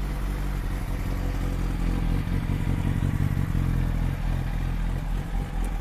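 Yamaha R1 motorcycle with its stock exhaust idling steadily up close, a loud continuous low engine rumble with a clattering mechanical texture throughout and no voices.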